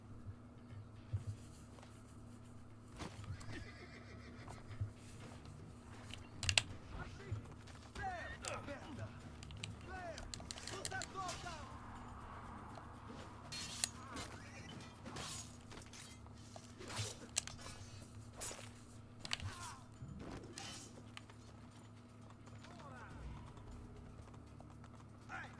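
A horse in the Assassin's Creed II game clip-clops along at a steady walking pace, its hooves faint and thin under a low mechanical hum, with creaks and occasional clanks mixed in.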